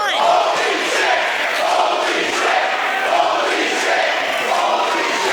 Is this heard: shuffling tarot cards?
no